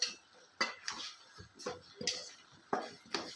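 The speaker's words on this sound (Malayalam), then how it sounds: "പച്ച വെളിച്ചെണ്ണയും കൂടി കുറച്ചങ്ങോട്ട് ഒഴിച്ചു കൊടുത്തിട്ട് യോജിപ്പിക്കാം." A spoon clinks and scrapes against a pot as jackfruit, spinach and mango aviyal is mixed with raw coconut oil, a series of sharp, fairly close metallic taps in a loose rhythm with quiet pauses between strokes.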